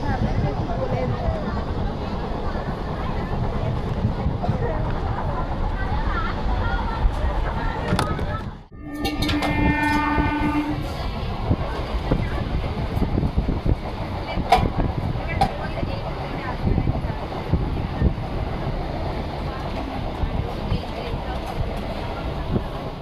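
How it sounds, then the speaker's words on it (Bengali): Train rumbling steadily along the tracks, with a loud horn blast sounding for a couple of seconds partway through, while faint voices murmur in the background throughout. "আমাদের ট্রেন আসছে"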